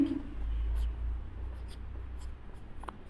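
A pen scratches out a math solution on paper in short, quiet strokes with brief pauses between them, faint and close against a low background hum.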